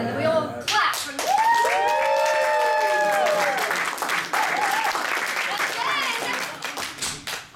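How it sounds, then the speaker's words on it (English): An audience claps right after singing the Australian national anthem, a lively mix of many hands with voices calling out and someone talking over the applause, which thins out toward the end. "And then we all clap"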